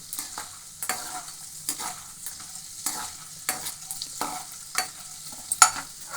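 Tempering in a pan on a low flame for puliyogare, a soft steady sizzle of frying with repeated scraping strokes of stirring at a fairly even rhythm, heard alone without voices.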